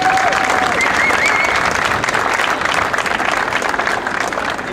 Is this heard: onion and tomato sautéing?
no